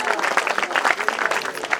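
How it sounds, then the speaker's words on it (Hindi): Loud, dense clapping from an audience at a devotional Krishna birth celebration, with the applause running steadily and close throughout with no talk over it. "जोरदार ताली बजाएं।"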